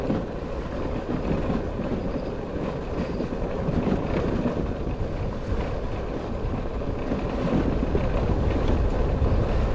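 Steady, strong, cold wind rushing and buffeting the microphone on high ground at a dam, a constant roar with no voices.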